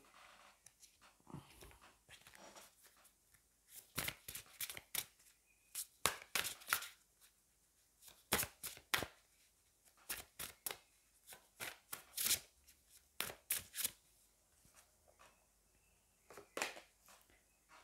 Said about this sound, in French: on va aller prendre une carte du Magic of You